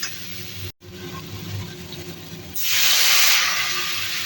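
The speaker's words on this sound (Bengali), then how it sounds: "কষানোর জন্য দেবো সামান্য পরিমাণে জল" Water splashed into frying chili and turmeric masala for a fish curry, a steady low sizzle that erupts into a loud, bright hissing spray partway through and keeps steaming.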